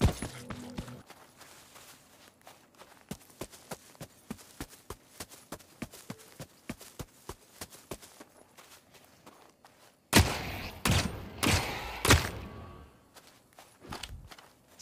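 Shots ring out in The Cycle Frontier: a long run of evenly spaced sharp cracks, followed by a sudden louder cluster of heavy blasts and impacts, then a few quieter hits.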